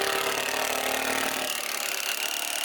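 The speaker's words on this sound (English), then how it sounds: "Austin's cutting boards, Ellen's screwing them in." A power saw cuts wooden boards for a hobbit house water feature, a loud, steady whining buzz that eases slightly toward the end, with no talking.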